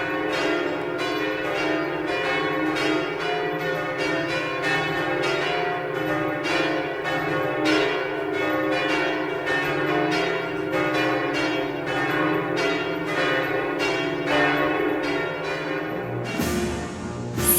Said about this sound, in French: à l'appel des cloches de la tour nord